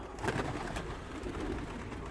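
Pigeons over a home pigeon loft give a steady low cooing and murmuring with light wing and body rustle, continuous and fairly near throughout, with no voices.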